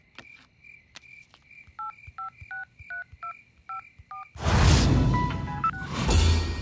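Telephone keypad dialing to place a call, a quick run of clear, evenly spaced tones close up in a quiet room, before a loud burst of noise with more faint beeps under it.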